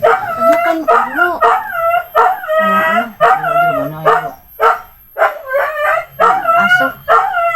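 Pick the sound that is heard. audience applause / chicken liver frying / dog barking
dog barking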